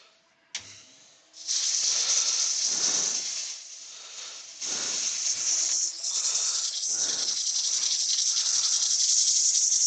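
A dust extractor runs during woodturning sanding on an apple, switching on with a click and then holding a loud, steady airy hiss while sanding scrapes rise and fall underneath.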